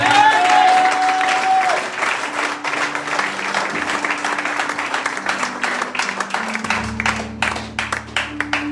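A church congregation at a French-language service claps steadily and loudly for several seconds, with a sustained tone running underneath the crowd's applause.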